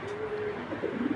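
Racing pigeons coo softly nearby in a loft, a few low throaty coos building toward the end.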